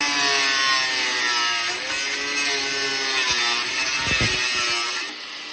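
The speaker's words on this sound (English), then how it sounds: "my dad could now go head on with the grinder and get it away from the spot welds" An angle grinder cuts along spot welds in the rusty body of an old Vauxhall Nova, a loud, sustained high whine with shifting pitch as the disc bites, a few knocks, then it spins down near the end.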